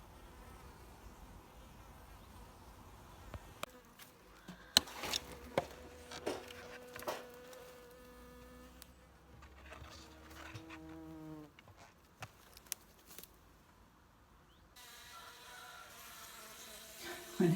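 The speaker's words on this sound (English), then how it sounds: "Whenever I bring a super back, there's always a few bees. There's not actually that many, there's probably about 10 in there, but they make a bit of a noise." A handful of honeybees, about ten, buzz inside an empty beehive super brought back from the apiary, their drones rising and falling close by, with faint knocks and handling noises between them.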